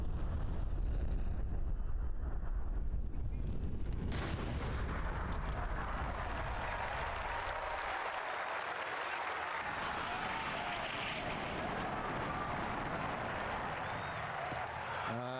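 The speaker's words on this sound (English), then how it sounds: "What a golf swing and a big drive as well." A golf drive in the EA Sports PGA Tour video game at TPC Scottsdale during the WM Phoenix Open, followed by loud, sustained crowd cheering and applause that washes broadly over the whole stretch.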